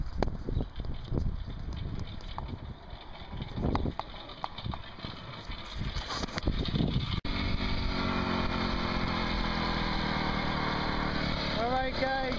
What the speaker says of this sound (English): I got this bike all ready to go, so let me crank her up